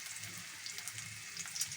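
Food sizzles and fries in a pan as it is stirred, with a steady, fairly faint crackle and occasional scraping under no talk.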